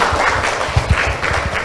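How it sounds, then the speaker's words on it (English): An audience at a student debate applauds the debaters, a dense, loud clatter of clapping hands that keeps going throughout. "please give them another round of applause"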